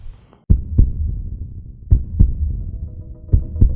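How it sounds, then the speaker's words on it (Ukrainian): Deep, thudding human heartbeats sound close and loud in paired lub-dub beats over a low hum, following a brief quiet start. "Так лунає звук серця."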